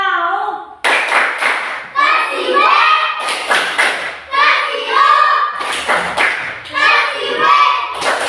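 A group claps in bursts of rhythmic patterns, loud and close, with chanting voices between and over the claps.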